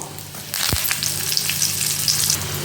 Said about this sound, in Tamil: பருப்பெல்லாம் செவக்க தாளித்து ரெடியாகட்டும்